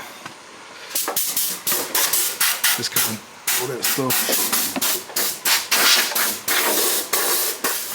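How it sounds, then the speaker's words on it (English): A handheld air blower fires loud repeated bursts of compressed air to clear metal shavings from under a 1978 Chevrolet Malibu Classic, short rhythmic hissing blasts close by, with brief talk between them. "So I got my air blower right here."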